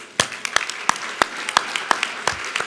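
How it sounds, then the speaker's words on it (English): Sparse clapping from a small group, distinct sharp claps at a loose, irregular rhythm over a soft background of scattered applause. "would you please stand and let us applaud you?"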